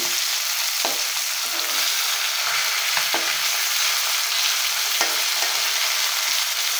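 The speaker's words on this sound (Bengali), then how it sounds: "এই মাছগুলো আমি এখন একটু উল্টে পাল্টে ভেজে নিচ্ছি" Fish pieces fry in hot oil in a pan, intended for a potato curry, giving a loud, steady close sizzle with a few sharp clicks as they are turned over.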